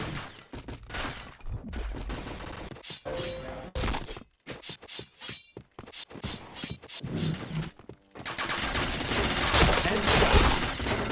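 Rapid gunfire bursts and shots crack in the online shooter Point Blank, dense and loud with short gaps, while a player talks over the action.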